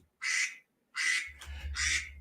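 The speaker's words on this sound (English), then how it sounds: "My duck alarm is going off." Three loud, nasal duck quacks sound close up, the second and third following quickly, over a faint low hum between calls, used as an alarm sound.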